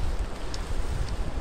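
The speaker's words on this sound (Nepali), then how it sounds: "हिजो रातिदेखि पानी परेकै छ।" Steady rain falls in the morning on the Langtang trek in Nepal near Ghode Tabela, a continuous close patter mixed with some wind noise and no talk.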